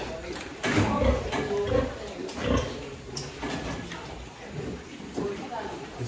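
A sow in a pig barn grunts during artificial insemination, giving several low, irregular grunts close by while a person talks over them.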